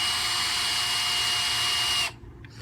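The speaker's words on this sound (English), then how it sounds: "The best way to use a power drill is to take it, right?" A power drill running in a steady, loud high-pitched whine close by for about two seconds, then abruptly cutting off into near silence.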